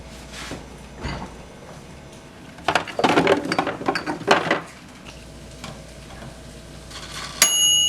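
Utensils and a pan clatter and scrape while eggs and toast cook, with a dense cluster of clinks and knocks in the middle between quieter stretches of soft kitchen noise.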